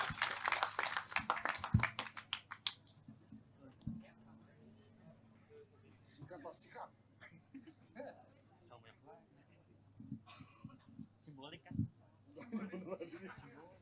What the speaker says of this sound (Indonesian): Yuk, tepuk tangan buat Masnya